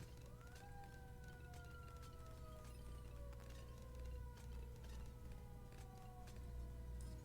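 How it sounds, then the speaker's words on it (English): A distant wailing siren sweeps slowly downward in pitch, repeating, over a steady low engine rumble and background noise. "It was probably a police car, but it didn't sound like a police siren"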